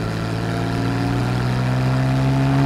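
Exhaust of a Porsche 911 Carrera S convertible of the 991.1 generation drones at a steady low engine note with sustained tonal hum, fairly close, no speech over it.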